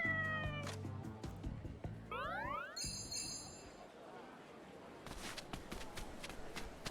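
A cat in Like a Dragon: Ishin meows a few times up close, with rising and falling mews, followed by footsteps and a quieter stretch.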